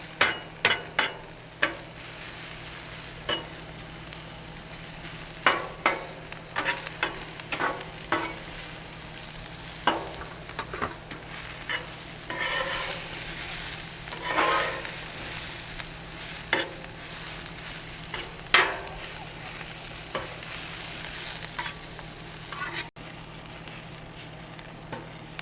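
Bell peppers and onions fry on a Blackstone griddle for fajitas, a steady loud sizzle broken by frequent sharp scrapes and clatters of a spatula stirring the vegetables, with no talking.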